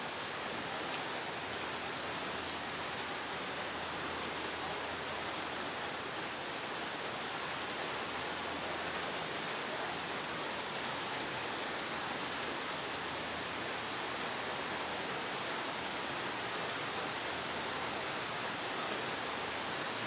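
Rain falling on a gray day, a faint, even hiss of drops that holds unchanged the whole way through, with no voices over it.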